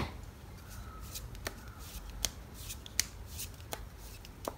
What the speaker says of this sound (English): I'm going to be shuffling a couple of cards on camera for you